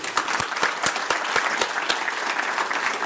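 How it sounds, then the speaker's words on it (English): An audience applauds the drama seniors at a school show, with sustained close clapping by a moderate crowd and a few sharper individual claps standing out. "let's get a round of applause for them real quick"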